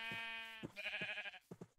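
Sheep bleating in the Minecraft video game, a couple of short nasal bleats close up with a brief gap, followed by quick thuds.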